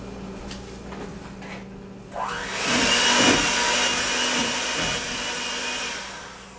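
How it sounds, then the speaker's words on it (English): An electric mixer spins up partway through and keeps whirring steadily, beating eggs one at a time into key lime cheesecake batter, with a quiet lead-in of small kitchen knocks before the motor starts. "you want to start adding your eggs in one at a time and mixing after each egg, after each addition"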